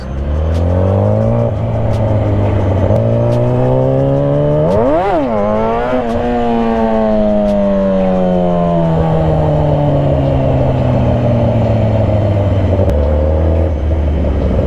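Loud, close motorcycle engines, mostly Harleys, rumble steadily at a street bike meet, with one engine revving up and back down midway.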